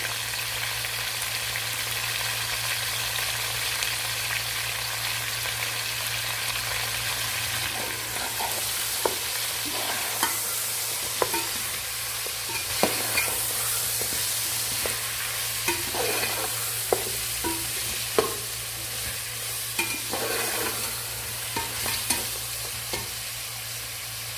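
Mutton with ground masala and salt frying in a pot for pulao, a steady broadband sizzle with a low mains hum, punctuated from midway by repeated scraping stirs of a spoon, no talking.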